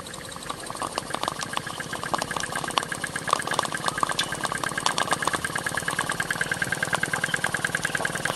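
A Stuart Turner S50 model steam engine runs on live steam, giving a steady, fast mechanical chuffing and clatter that holds an even rhythm throughout, loud and close, with no talking.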